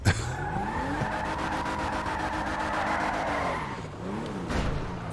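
In GTA 5, a Benefactor Vorschlaghammer sedan brakes hard, and its tires let out a long, loud squeal while the engine note drops, followed by a brief second skid.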